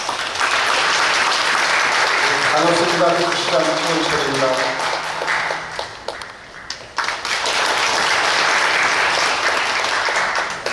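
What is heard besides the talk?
audience applause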